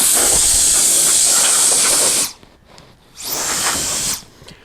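A compact Wolfbox air duster blows debris off tools in two loud, close, hissing bursts of rushing air separated by a short pause. No one speaks.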